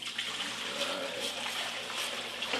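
White vinegar, about a quart and a half, pours steadily into a container for horseradish pickles, a continuous broadband liquid splash at moderate level with no talk over it.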